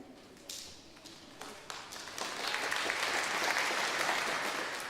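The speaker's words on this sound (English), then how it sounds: "if you guys can do that and do a nice short applause" A church congregation gives a short burst of applause during a welcome; scattered claps build after about two seconds into steady, fairly close clapping from a crowd.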